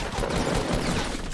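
Dense, continuous gunfire from the video game Fortnite, loud and close, a burst of overlapping shots with no pause.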